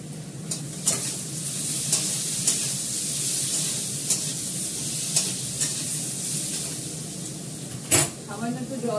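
Fenugreek seeds sizzle in hot oil, a steady loud hiss with occasional clinks of a spoon and a sharp clatter near the end, while someone talks in Bengali over it.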